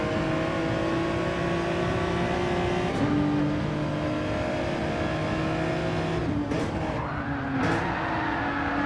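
A race car engine drones steadily at high revs during a DTM race in Gran Turismo 7, with pitch drops at gear changes and brief bursts of tyre noise as the car slides, heard continuously and close.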